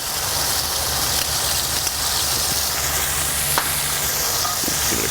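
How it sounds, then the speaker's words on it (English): Artichokes and olives sizzle in a cast iron pan while being stirred, a steady close frying hiss with faint scraping and no talk. "Give it a quick stir so everything has a little bit of pan contact."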